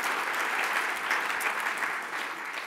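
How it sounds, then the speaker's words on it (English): A conference crowd at the RightsCon Brussels 2017 opening ceremony applauds, giving a short, even wash of many hands clapping at a moderate distance. "Could we have a round of applause for them?"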